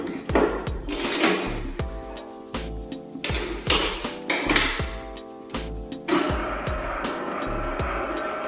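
A bakery dough-mixing machine works lardy cake dough, a steady mechanical whirr with a repeating knocking, thumping rhythm of beater and bowl, loud and close, with no talk over it.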